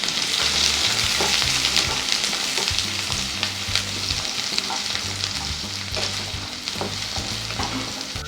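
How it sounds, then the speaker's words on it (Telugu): Chopped onion sizzles and fries steadily in hot oil in a pan, with the stirring scraping along throughout, loud and close. "ఉల్లిపాయలు ట్రాన్స్పరెంట్ అయ్యే వరకు వేయించుకోవాలి."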